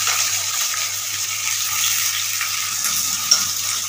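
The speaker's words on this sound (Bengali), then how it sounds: "তারপরে বরবটিগুলোকে সর্ষের তেলের মধ্যে ছেড়ে দিলাম।" Yardlong beans frying in hot mustard oil give a steady, close, even sizzle with a soft hiss that holds without a break, over a faint low hum.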